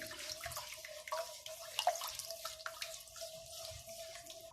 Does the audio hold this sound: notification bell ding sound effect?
no